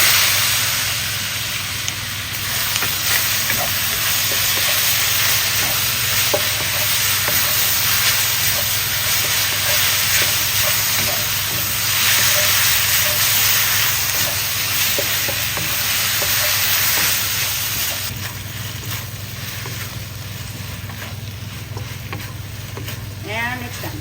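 Beef and Anaheim peppers stir-fry with sauce in a hot pan, a dense, loud, continuous sizzle with scraping stirs throughout, close up and with no talk over it.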